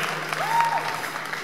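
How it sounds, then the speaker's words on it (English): Applause from an audience at an album launch, a steady wash of clapping running through the whole moment with a faint sustained tone and low hum underneath. "A round of applause for this beautiful woman"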